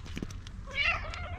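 A cat gives a single close, clear meow after a few soft rustles, short and fairly loud in a quiet indoor room.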